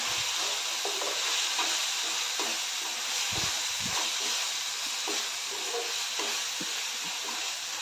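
Cashew masala being stirred with salt in a pan for a dhaba-style dish, a steady close sizzle and hiss with soft spoon scrapes and occasional low knocks throughout.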